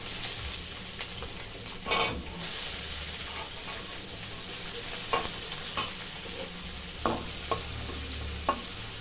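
Onions and mustard seeds fry in a pan for vangi bath gojju, giving a steady close sizzle with occasional stirring scrapes and clicks, no voices.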